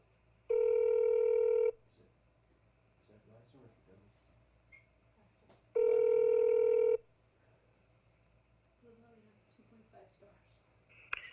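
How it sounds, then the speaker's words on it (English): An outgoing telephone call to Blackstone Investor Relations rings twice: two steady, loud ringback tones, each about a second long, separated by a quiet gap with faint background murmur. "Okay, so I'm calling Blackstone right now."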